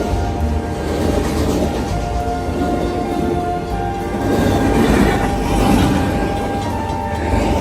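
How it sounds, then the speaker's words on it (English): A KCS SD70ACE diesel locomotive hauls a train past at close range, a loud steady engine drone with rumbling wheels and rail clatter holding throughout. "And another KCS SD70 ACE."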